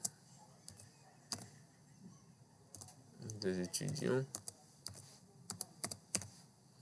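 Typing on a computer keyboard gives quick, sharp key clicks in irregular bursts while someone talks over part of it. The sound is close and fairly quiet.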